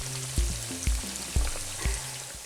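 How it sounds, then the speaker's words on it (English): Pork deep frying in a cast iron pot, giving a steady close sizzle and bubbling with a few low thumps from the pot, and no voices. "It only takes a few minutes to deep fry the pork."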